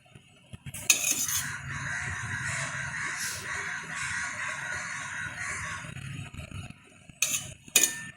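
A spoon scoops rice puttu flour into a puttu maker, making soft scraping and rustling with a few sharp metallic clinks at the start and end, and a bird calling faintly in the background.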